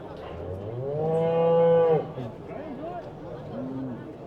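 Cattle at a livestock show in Uppingham, Rutland: one loud, drawn-out moo near the start, then shorter, fainter lowing calls follow amid background chatter.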